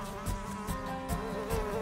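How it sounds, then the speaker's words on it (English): A mosquito buzzes steadily and close by, a thin continuous whine with a faint pulsing rhythm and no voices. "How did you get rid of that pesky mosquito?"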